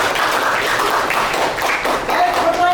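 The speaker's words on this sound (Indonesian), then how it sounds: "Beri tepuk tangan untuk Ciara." Classroom audience applause for a student after her question, a steady dense wash of clapping with a faint tonal whistle-like squeal near the end.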